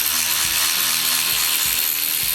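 A 3/8 ratchet wrench works loose the ignition coil on a Toro CCR 3650 snowblower, its repeated ratcheting clicks set against a steady, loud wash of broadband noise with no talking.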